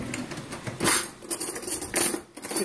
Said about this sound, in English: let's reach over here for a spoon.